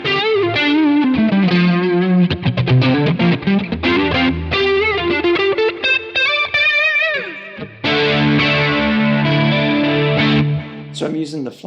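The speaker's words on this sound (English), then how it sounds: "So I'm using the flangerish on the front here. So I'm using it in front of the amp as if it was a pedal." Electric guitar played through a flanger set in front of a Friedman IR-D amp capture, loud and distorted, with sweeping, swirling chorus-like tone over sustained chords and quick strummed passages, no voice over the playing.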